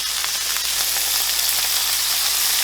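Cheeseburger patties searing on a cast iron pan, a loud, dense, continuous sizzle close by with faint crackles throughout.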